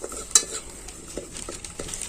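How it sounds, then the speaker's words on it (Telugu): Spicy mutton curry being stirred in a pan, a ladle scraping and knocking against the metal in irregular strokes over a low sizzle, close and fairly loud. "ఎంతసేపు గెలుకుతావు దాన్ని?"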